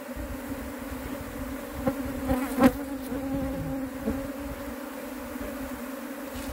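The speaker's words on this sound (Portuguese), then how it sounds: "Aquela voação de abelha gigantesca." A huge swarm of honeybees hums steadily and close during a hive capture in a shed, a dense continuous buzz with a few louder swells partway through and no talking.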